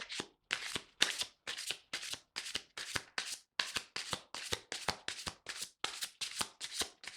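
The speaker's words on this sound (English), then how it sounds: "I will shuffle 3 more times" Tarot cards shuffled by hand in a steady run of about twenty quick riffling bursts, close and crisp, with no talking.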